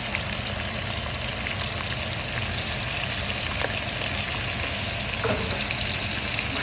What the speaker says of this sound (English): I'm going to saute this real quick